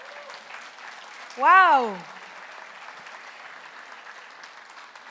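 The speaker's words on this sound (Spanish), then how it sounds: "Le damos el aplauso al Señor." A church congregation claps in a steady wash of applause, and a single voice rises in an excited exclamation partway through.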